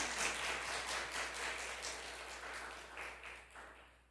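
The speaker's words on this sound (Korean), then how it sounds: "우리 박수로 맞아주시면 감사하겠습니다" A church congregation at a Seattle Sunday service applauds to welcome a visiting family, a faint, steady wash of clapping that holds evenly and then tapers off at the end.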